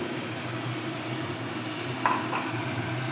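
Ground melon seed and cashew paste drops into spices frying in oil, giving a steady close sizzle with a brief sharper burst of stirring and spatter partway through.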